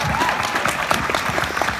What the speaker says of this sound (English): I don't know why that deserved an applause.